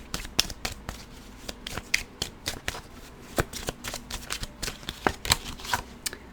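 Tarot cards are shuffled close up in a series of crisp, rapid riffles and flicks, with irregular bursts of papery snaps and slaps that repeat throughout, without any talking.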